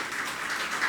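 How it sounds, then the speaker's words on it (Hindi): Audience clapping at a religious question-and-answer gathering, a steady dense wash of applause, brief and continuous. "एक बार जोरदार ताली बजा दीजिए"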